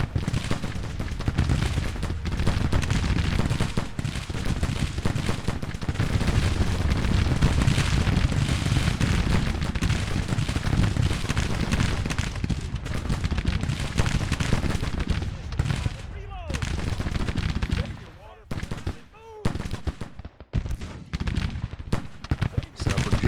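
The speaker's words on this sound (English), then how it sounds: "That's that artillery." Artillery fire in the Civil War strategy game Grand Tactician, a dense rolling barrage of booms and crackling volleys that fills the battlefield continuously, thinning near the end into separate sharp reports.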